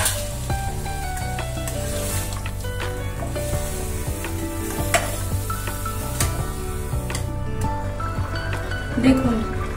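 A cauliflower and potato curry with pakora in a thin gravy simmers in a pan, giving a continuous bubbling sizzle under background music, with occasional stirring knocks.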